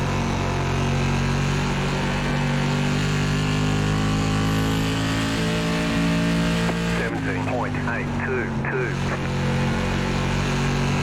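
SK modified race car engines in iRacing at New Smyrna drone loudly and continuously, their pitch shifting through the lap, while someone talks over the racing.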